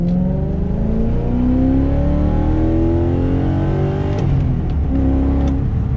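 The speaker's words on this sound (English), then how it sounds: "It's a little bit loud since it's straight piped" BMW E34 with a straight-piped exhaust, polyurethane subframe and differential mounts, driving on a road trip; a loud, close engine drone rising and falling through gear changes, with steady road rumble and no talk.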